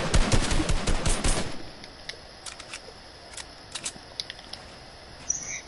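In a video game, a submachine gun fires a loud rapid burst at first, then breaks off into scattered quieter clicks and short shots against a hushed background.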